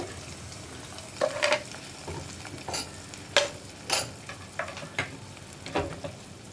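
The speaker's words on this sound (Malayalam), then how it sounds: "നമുക്ക് നമ്മുടെ പായസത്തിലേക്ക് കാഷ്യൂനട്ടും റൈസിൻസും തേങ്ങക്കൊത്തും നെയ്യും എല്ലാം ചേർത്ത് കൊടുക്കാം" Cashews, raisins, coconut pieces and ghee go into green gram payasam, heard as a series of close clinks, taps and stirring scrapes over a faint sizzling background.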